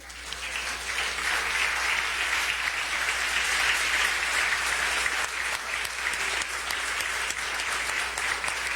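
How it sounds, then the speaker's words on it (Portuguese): A church congregation claps and applauds together in a dense, steady wash of hands that holds at full strength for several seconds. "Vamos aplaudir o Senhor?"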